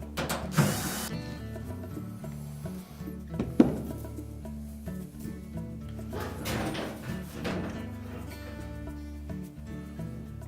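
Back panel of a Frigidaire washer being lifted off, with metallic clunks, scrapes and rattles of sheet metal handled close up, a couple of sharper knocks among softer shuffling.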